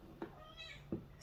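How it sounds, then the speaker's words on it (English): Two short, clear meows from a nearby cat, spaced about a second apart, over a quiet background. "Just be meowing for no reason."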